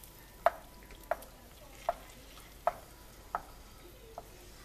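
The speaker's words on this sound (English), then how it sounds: "we're browning our butter, and you just want to keep stirring it up" Butter browning in a pan while stirred, with six evenly spaced sharp utensil taps against the pan over a soft, faint sizzle.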